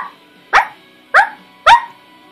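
A person imitates a dog bark with their voice, giving three sharp, evenly spaced yips in a fairly high register, each brief and standing alone against a quiet background.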